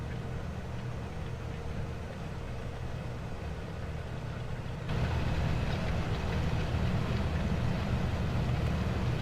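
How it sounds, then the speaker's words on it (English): A Claas Xerion 5000 tractor's engine runs at a steady low hum, fairly quiet and continuous, growing slightly louder partway through with no talk over it. "Engine is quite quiet."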